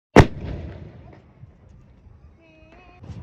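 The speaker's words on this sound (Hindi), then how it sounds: "ज़्यादा पटाखे नहीं फोड़ने हैं, ज़्यादा आवाज़ें आ रही हैं पटाखों में, ज़्यादा बड़े वाले बम मत फोड़ो।" A single sharp Diwali firecracker bang goes off close by, its echo decaying over about a second, followed by quiet background with faint voices and a brief tonal sound.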